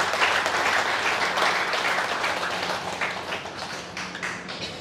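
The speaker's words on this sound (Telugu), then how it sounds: "గట్టిగా క్లాప్స్ ఇవ్వండి." A spiritual gathering's audience claps loudly and steadily, a dense wash of applause that fades slightly toward the end, with no talking over it.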